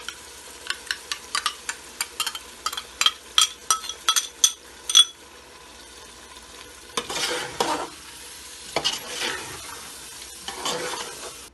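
Mutton pieces are stirred with yogurt in a pan: a quick series of rhythmic metal clinks against the pan gives way to softer scraping and a low sizzle, close up and with no voices.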